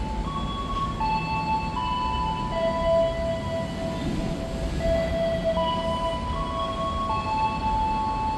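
The Tegal Bahari business-class train pulls out of Brebes station as a steady rumble, while the wheels and rails give off long, shifting metallic squeals and tones throughout.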